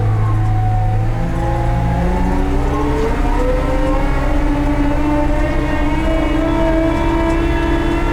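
A 2004 Mustang ML72 wheel loader drives on a road, its engine droning loud and close with rising, revving tones as it accelerates and a heavy rumbling undertone throughout, no talking.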